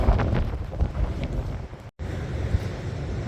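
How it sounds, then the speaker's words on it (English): Wind gusting across the beach at Runswick Bay after a storm, steady loud rumbling buffets against the microphone with the sea mixed in and a brief dropout near the middle. "Oh yeah, it's definitely got a bit windy now."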